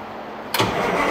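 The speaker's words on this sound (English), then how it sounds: "please start engine" A Pontiac Trans Am engine briefly cranks, then catches and starts with a sudden loud burst that settles into a steady running rumble, close by with no talking.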